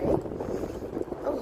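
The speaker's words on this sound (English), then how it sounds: "Oh, sorry about the wind." Wind buffets the microphone outdoors while walking downtown in Halifax, Canada, giving a brief low rumbling blast under a faint voice.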